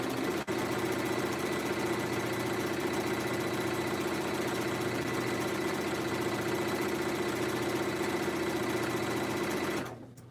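A sewing machine stitching fusible-interfaced fabric pieces for an orange peel applique quilt block, a steady close whirring hum running continuously for about ten seconds before stopping abruptly, with no talking.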